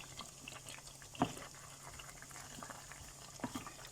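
Chicken and potato curry with satkora simmering in a pot, a faint, steady bubbling with a few soft pops scattered through it.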